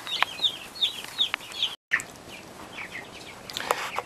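Three-week-old Cornish cross broiler chickens in a backyard pen cluck and chirp in short, repeated calls, with a brief silent gap midway and a denser burst of calls near the end.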